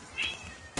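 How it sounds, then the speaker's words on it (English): A cat gives one short, loud meow close by during a late-night gaming stream, then a brief thump ends the moment. "Oh, that was a loud meow, huh?"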